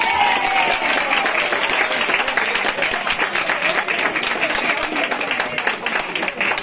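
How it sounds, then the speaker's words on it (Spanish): A crowd at a livestock fair in Bañobárez claps for the town mayor, dense continuous applause that stays loud and close throughout, with a few faint voices mixed in. "yo pido un aplauso para él"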